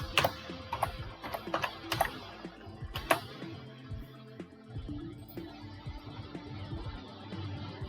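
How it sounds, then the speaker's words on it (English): Someone types an admin username and password on a computer keyboard, producing quick, irregular clicks and taps at close range, with bursts of keystrokes followed by quieter pauses. "Now we type in the admin, and then the password."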